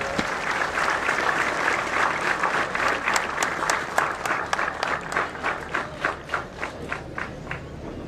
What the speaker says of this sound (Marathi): अभिजितसाठी एकदा जोरदार टाळ्या व्हाव्यात